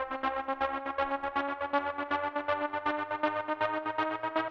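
A rhythmic synthesized riser from BOOM Library's LiftFX pulses in steady, rapid beats, its distorted tones building over several seconds.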